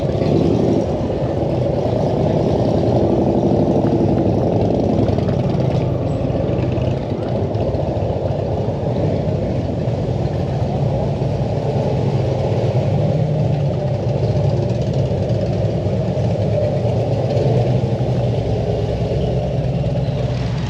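A motorcycle at Daytona Bike Week runs in place, its engine a continuous low rumbling drone that stays steady and loud throughout, mixed with outdoor crowd ambience.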